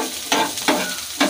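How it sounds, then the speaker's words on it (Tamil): Finely chopped small onions sizzling in a hot pan while making ragi adai, a loud steady frying hiss with three brief bursts as they are stirred. "சின்ன வெங்காயத்தை குட்டி குட்டியாக நறுக்கி வச்சுருக்கோம், அதையும் போட்டுக்கோங்க"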